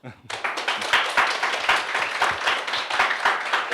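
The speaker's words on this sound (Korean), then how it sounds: "여러분 박수 한번 주세요" A room of staff clapping at a company townhall meeting, dense steady applause close by that starts abruptly and carries on evenly to the end.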